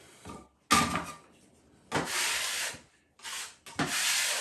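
Putty is worked into screw holes with short, separate scraping and rubbing strokes, four or five bursts with quiet gaps between them, close up.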